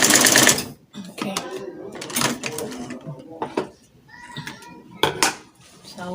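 Sewing machine stitching a balloon-sleeved Caribbean dress: short, separate bursts of rapid mechanical whirring, close and fairly loud, with soft handling noises and a little speech in the gaps.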